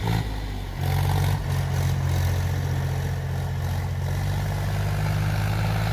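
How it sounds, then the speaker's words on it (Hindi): A heavy diesel Mahindra 265 DI tractor engine, freshly rebuilt, idles close by with a steady low chugging rumble, briefly dipping near the start before running on evenly. "भाई महिंद्रा का ट्रैक्टर है"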